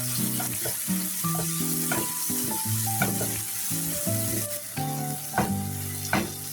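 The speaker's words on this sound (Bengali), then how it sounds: "এখন আমি এর মাঝে মরিচগুলি দিয়ে দিব, দিয়ে ভালো করে রসুন পেঁয়াজের সঙ্গে আমি এটি মিশিয়ে নিব।" Very hot green chilies frying and being stirred together with garlic and onion, a bright crackling sizzle under repeated scraping, close and loud, with steady tonal hums running beneath it and no speech.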